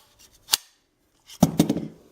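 A Glock 17 magazine drops free from an AR9 lower with a quarter-circle 10 style lower and an Odin Works XGMR extended mag release. A short click comes first, then a clattering landing of metal and polymer, close and alone.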